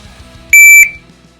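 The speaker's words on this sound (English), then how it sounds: "The beep on this timer is very loud" Pact Club Timer 3 shot timer emitting a single loud, sharp electronic beep lasting about a third of a second, close and clear over faint background noise.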